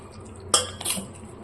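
A spoon clinks and scrapes in a pot while chicken masala gravy is mixed with salt, with two quick, faint metallic strokes close by.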